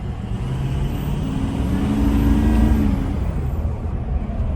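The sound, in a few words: Ford F350 diesel truck accelerating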